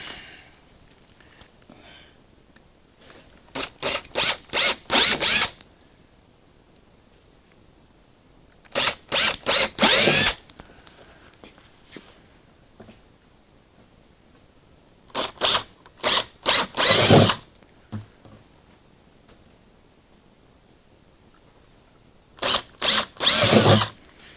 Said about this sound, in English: Now with the jigsaw, I'm going to cut approximately ¼ inch or so smaller.